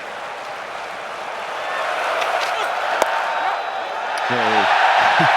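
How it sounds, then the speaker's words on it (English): A cricket crowd at Lord's during an England v India Test claps and cheers, a broad steady swell of applause building toward the end with a few whoops, while a commentator talks over it. "They're clapping and cheering as he finally gets off the mark."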